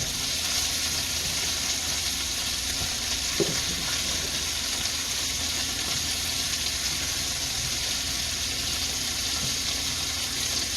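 Onion sizzles and fries in a pan for chicken cacciatore, a continuous loud hiss with only a faint knock partway through and no talking.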